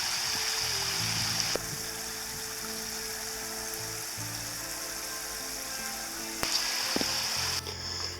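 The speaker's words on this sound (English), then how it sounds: "it's kind of nice to hear that water running through the rocks" Water trickles and babbles steadily over rocks at close range in a stream at Dinosaur Valley State Park, a continuous gentle rushing with no voices.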